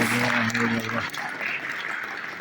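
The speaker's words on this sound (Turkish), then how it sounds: "Hakikaten alkışlarınızla bize destek verdiniz" An audience applauds at a film premiere gala; a voice speaks first, then scattered clapping from the crowd continues at moderate volume after he stops.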